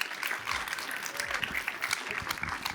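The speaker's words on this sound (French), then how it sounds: "Vous pouvez applaudir très fort." A seated audience applauds at a customer-satisfaction award ceremony, a steady dense clatter of many hands clapping that holds from start to finish at moderate, room-filling volume.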